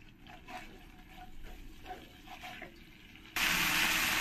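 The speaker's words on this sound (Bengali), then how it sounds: "এবার মশলার মধ্যে দিয়ে দেব জল।" Water gushes steadily into a pan of mustard spice paste for a fish curry, starting suddenly after quiet kitchen clatter and continuing as a loud, close pour.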